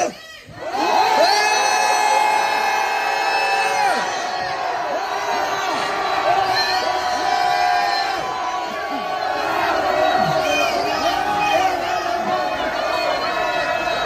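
A rally crowd at a student political gathering shouts and cheers together in a sustained roar for about fourteen seconds, loud and dense with many voices, whoops and cries layered over one another.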